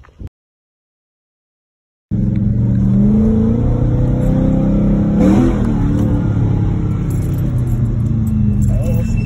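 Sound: supercharged car engine revving

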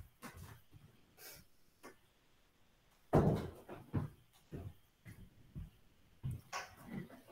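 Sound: door being closed

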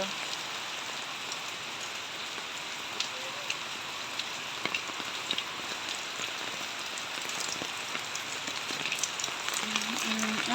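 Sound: heavy rain on house roof during typhoon

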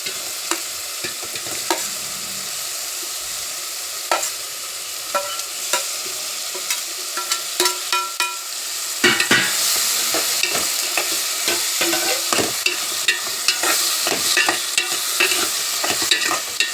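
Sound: onion and tomato frying and being stirred in pan

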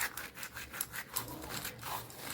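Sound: crushing cumin seeds between the palms

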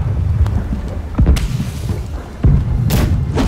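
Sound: cannon fire from an enemy galleon in the video game Blackwake

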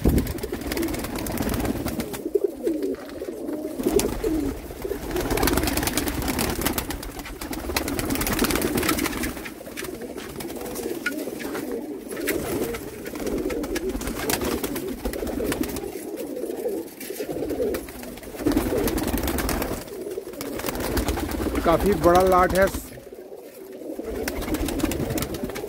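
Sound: pigeons cooing, pigeons for sale

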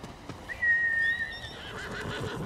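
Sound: horse neighing in video game Ghost of Tsushima

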